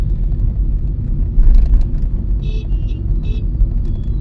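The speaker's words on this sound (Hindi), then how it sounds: "क्या ट्रैफिक है" Heavy jammed traffic on Lal Bahadur Shastri Marg in Delhi, heading toward Moolchand: a steady low engine rumble with a few short horn toots partway through.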